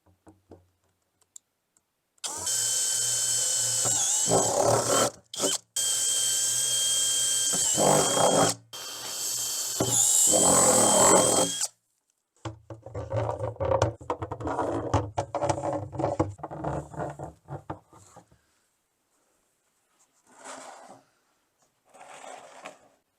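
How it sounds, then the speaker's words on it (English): A power drill whirs in several long bursts, high-pitched and close, drilling holes in plastic, followed by quieter clicking and handling noises. "drilling holes in the bottom"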